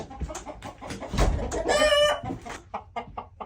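Barnyard chickens and roosters cluck and squawk in a busy cluster of close, irregular calls, with one louder drawn-out call in the middle.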